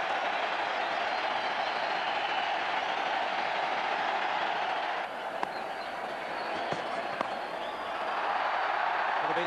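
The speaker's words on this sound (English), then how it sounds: "this huge National Stadium crowd are certainly saluting him" A huge crowd at the National Stadium cricket ground roars steadily in applause for a batsman reaching fifty, a loud continuous wash of cheering with scattered claps and shouts throughout.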